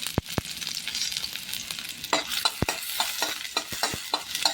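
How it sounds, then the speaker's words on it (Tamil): Onions fry in oil in a pan, giving a bright continuous sizzle broken by sharp clicks and scrapes of a spoon stirring, close up with no talking. "இப்போ இந்த ஆனியன் நல்லா வதக்கி எடுத்துக்கலாம்."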